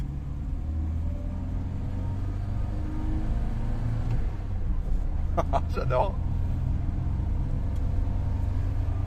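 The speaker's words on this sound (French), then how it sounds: "On entend le moteur. On entend la mécanique." A steady low engine rumble from a vintage Volvo Amazon runs throughout, idling evenly in the background while a voice briefly speaks over it midway.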